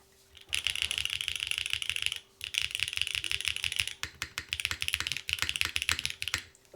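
Typing on a full-size top-mount keyboard with a plastic plate: loud, firm, close-up keystrokes in dense, steady bursts, with a brief pause near the two-second mark before rapid clacking resumes.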